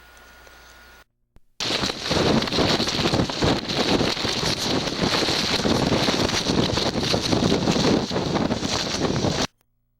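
Strong wind roars across the microphone while a kayak paddles out of a harbor at Upernavik, a loud, steady, broadband rush that starts abruptly after a brief quieter moment and cuts off near the end.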